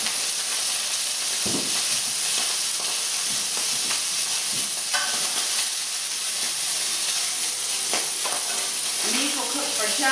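Lamb frying in a little oil in a pan gives a constant, close hiss of sizzling, with a few faint clinks and movements scattered through it and no clear speech.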